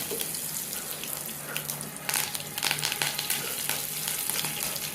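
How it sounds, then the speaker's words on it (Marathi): Dense crackling and spitting as asafoetida and curry leaves hit hot oil, intensifying about midway into a busy popping sizzle that continues to the end. "म्हणजे हे सगळं तडतडलं"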